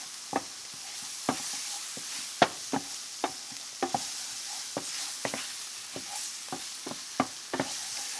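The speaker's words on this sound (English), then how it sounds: "We're going to stir, start getting this cooked down, cooked out, get the raw flour out." Mushrooms coated in flour are stirred in a pan, with scattered spoon scrapes and taps over a gentle, steady sizzle, close up and without talk.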